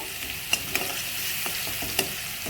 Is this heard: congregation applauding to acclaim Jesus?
no